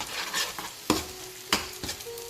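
Egg seasoned with salt and black pepper sizzles in a pan as it is stirred for fried rice, with a few sharp utensil scrapes and clicks over a steady frying hiss.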